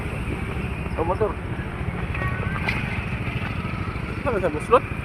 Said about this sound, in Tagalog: Oh, motor.